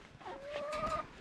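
A chicken clucks softly at close range, a short throaty call with no talk over it.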